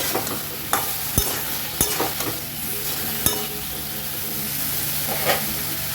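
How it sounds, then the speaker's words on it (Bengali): Drumstick and shrimp curry, seasoned with Kashmiri chilli powder and a little sugar, being stirred in a pan, with a steady sizzle under several sharp scraping clicks of the spoon against the metal. "এবার এটাকে ভালো করে নেড়ে"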